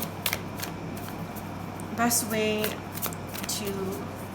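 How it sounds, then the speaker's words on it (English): Oracle deck shuffled by hand, quick papery riffles and card slaps close by, with a voice speaking over parts of it. "let's shuffle one more time to see if maybe another card comes out"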